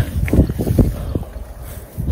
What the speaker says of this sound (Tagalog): Oh, wow, sarap ng hangin.